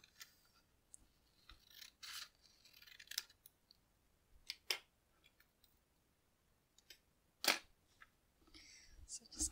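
Quiet, intermittent snips of scissors cutting paper, spaced irregularly with soft rustling between cuts.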